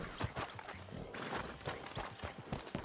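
Quiet, uneven clip-clop of horse hooves as horses walk at a slow pace in the video game Red Dead Redemption 2, heard faintly from a short distance.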